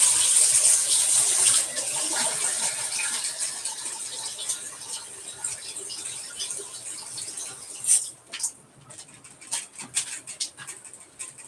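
Tap water gushing steadily into a Shih Tzu's water bowl indoors, a continuous hiss that cuts off near the end, followed by a few scattered clinks and light knocks.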